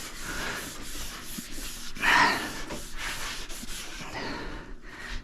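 Scotch-Brite pad rubbed briskly across a ski base during a home tune-up, a steady close abrasive scrubbing with a louder pass in the middle.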